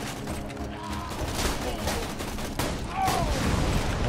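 Rapid gunfire in Borderlands 2 crackles in dense bursts through the whole stretch, loud and close, with game effects mixed in and a voice speaking over it.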